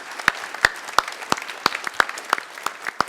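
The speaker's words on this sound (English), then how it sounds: "Let's give Jay a round of applause," A conference audience gives a round of applause, a few sharp separate claps at an uneven rhythm, close and moderately loud, with a thin background of scattered clapping.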